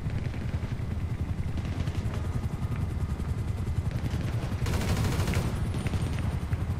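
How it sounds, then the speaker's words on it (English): Dense, continuous rapid gunfire in GTA Online crackles throughout, with a rumbling helicopter drone underneath and a brief louder burst near the end. "Hearing gunfire already."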